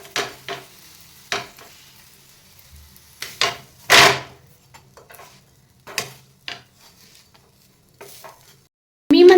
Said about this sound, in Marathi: दुसऱ्या बाजूने तेल लावायचे आणि हा पराठा उलट पुलट करून मस्त असा भाजून घ्यायचा आहे.